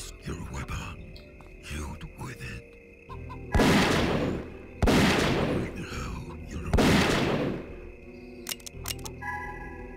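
Three heavy rifle shots boom at spaced intervals, each with a ringing tail, over faint game sounds and someone speaking, in the video game Zeno Clash.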